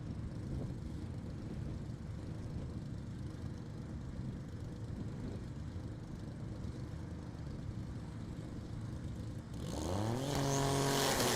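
2012 Nissan GT-R drag racing at a drag strip, a steady loud engine and crowd roar that swells sharply near the end as a car launches and accelerates hard.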